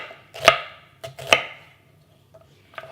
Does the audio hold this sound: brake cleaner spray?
no